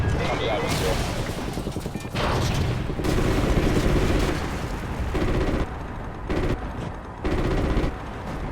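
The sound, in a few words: enemy anti-aircraft gunfire in the video game Call of Duty: Ghosts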